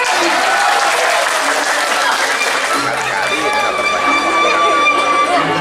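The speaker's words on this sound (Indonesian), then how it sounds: "Tepuk tangan berbanyak-banyak." Audience at a Balinese drama gong performance breaking into continuous loud clapping and crowd noise, with voices and cheers mixed in throughout.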